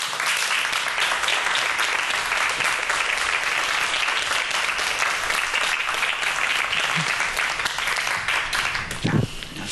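A studio audience gives a big, sustained round of applause to welcome a professor lecturing on solar energy onto the stage, dense and even throughout with a brief thump near the end.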